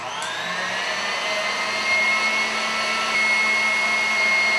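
Electric mixer whipping egg whites past the stiff peak stage toward overbeaten, a steady loud high-pitched motor whine droning close and unbroken, with no talking.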